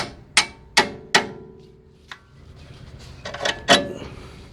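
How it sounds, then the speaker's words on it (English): A hammer gives a Honda drive axle gentle taps to push it out the other side. Three sharp metallic strikes come in quick succession, then a lighter tap, then a short cluster of knocks, all close and clear with no talk. "now we can just give this a couple of taps to push it out the other side"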